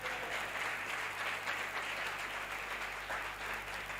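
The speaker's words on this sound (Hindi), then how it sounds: "आप एक बार फिर यीशु के लिए तालियां बजा दें जी।" Sustained applause fills a church congregation as worshippers clap together, a dense, steady wash of hand claps lasting throughout with no speech over it.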